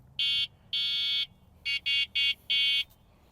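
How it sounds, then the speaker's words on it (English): A 72V Coswheel R19 electric motorbike's electronic horn beeps six times in short bursts, a couple of longer honks then quicker ones, loud and close against quiet background. "It also has a tail light right here, and it has a horn."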